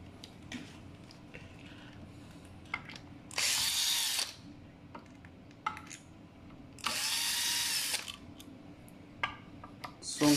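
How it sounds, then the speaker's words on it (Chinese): A power tool drives out the screws fixing the main controller board of a G3 unit, with two sustained high-pitched whirring bursts of a few seconds each, separated by small clicks and handling noises. "松开主控板的固定螺钉。"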